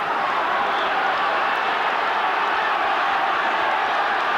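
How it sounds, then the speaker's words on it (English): A large stadium crowd at the 1980 Leinster hurling final between Kilkenny and Offaly roars steadily, a dense continuous cheer with no breaks. "Listen to their supporters, and they're in the majority."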